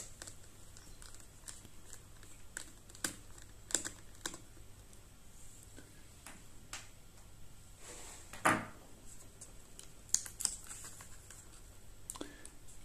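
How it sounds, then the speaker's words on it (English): Small screws are removed from the underside of a Dell Latitude 7290 laptop, giving faint, scattered clicks and taps with occasional louder knocks in a quiet room. "So need to unscrew these first, put the screws in a safe place."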